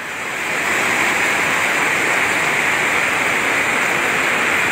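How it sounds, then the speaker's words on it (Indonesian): Heavy floodwater from torrential rain rushes through a flooded residential area in Wolowaru, a loud, steady roar of churning water that builds in the first half second and then holds constant with no voices. "Jadi semakin volume airnya, semakin debit airnya semakin deras."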